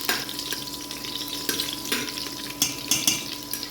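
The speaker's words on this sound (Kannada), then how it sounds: "ನೋಡಿ, ಈ ಥರ ಫ್ರೈ ಮಾಡಿಕೊಂಡ್ರೆ ಸಾಕು." Ingredients for an aloo capsicum pulao fry in a pan over a medium flame: a continuous crackling sizzle with a faint steady hum behind it, broken by a handful of sharp spoon clicks near the end, and no voices.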